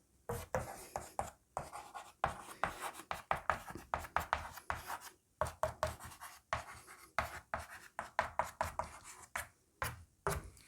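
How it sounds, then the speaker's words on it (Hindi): Pen or chalk writing during a Hindi immunity revision lecture, a steady run of quick scratchy strokes in bursts with short pauses between words, close and clear with no talking over it. "मैं लिख देता हूँ।"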